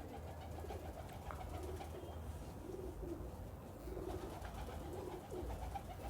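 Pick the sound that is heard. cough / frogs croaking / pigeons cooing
pigeons cooing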